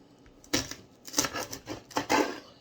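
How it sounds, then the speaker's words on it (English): Knife chopping scallions on a cutting board, green leaves included, for Jamaican brown stew chicken: a few separate crisp chops with short pauses between them, close and moderately loud, no talking. "So cutting down the scallions, yep, they put some of the green leaves in there as well."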